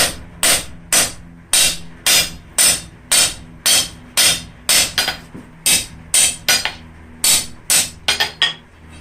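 Blacksmith's hammer striking hot flat bar stock on an anvil while drawing a taper, about seventeen sharp ringing blows in a steady rhythm, close and loud, with no talking.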